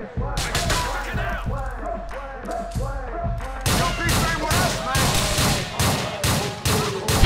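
Repeated shotgun blasts and heavy gunfire ring out in the video game GTA IV: The Ballad of Gay Tony, loud and close, firing in quick bursts with a dense, continuous battle din underneath.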